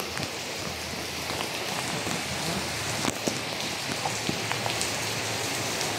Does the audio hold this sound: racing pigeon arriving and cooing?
no